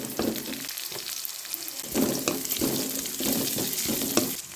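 Chopped onion with garlic, ginger and green chilli sautéing in hot oil, a steady close sizzle broken by repeated scraping stirs of a spoon against the pan.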